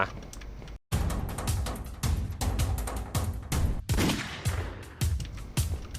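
Rapid bursts of gunfire in the video game Lethal Company, loud and close, with repeated shots and short pauses, while voices talk over the action.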